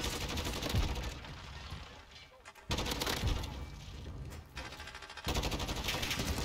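Grau 5.56 rifle fire in a Modern Warfare match, loud rapid automatic bursts in three separate strings separated by short pauses, sharp cracking shots close up.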